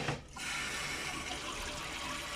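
Mains water rushes through a boiler's plate heat exchanger during a flushing service, a steady, close, loud gush of running water that starts after a brief gap and carries on without a break.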